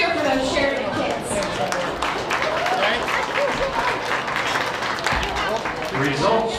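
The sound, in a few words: audience applauding and cheering at county fair livestock show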